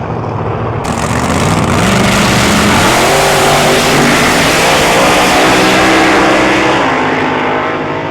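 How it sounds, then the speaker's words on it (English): Race car tearing past at Tarlton Raceway in a regional race meeting, a loud, close engine roar that swells abruptly and rises in pitch through the gears before fading slightly at the end. "One car in a hurry, there goes Satish Harichandra."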